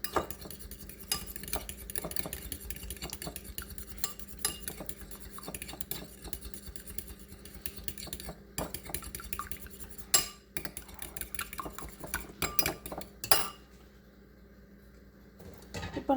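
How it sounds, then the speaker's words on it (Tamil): Eggs beaten in a bowl for a cheesy lettuce egg breakfast, a fork or whisk clinking rapidly and steadily against the bowl, close and clear, with a short quiet pause near the end. "அந்த எக்கை நல்லா பீட் பண்ணிடுறேன்."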